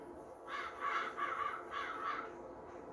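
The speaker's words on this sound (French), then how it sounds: "vos gueules, les corbeaux" Crows caw in a few short bursts a short way off from a roadside construction site, the calls repeating in quick clusters over steady low background noise.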